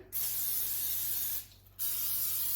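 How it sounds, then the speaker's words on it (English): Two long hissing bursts of cooking spray onto a waffle iron, close by, separated by a brief pause, over a low steady hum. "I'm going to give it a little spray."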